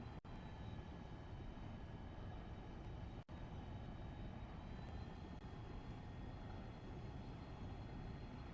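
Airplane touching down in a flight simulator game: a steady, loud engine and wind drone with faint tonal whine, running continuously with a couple of brief dropouts.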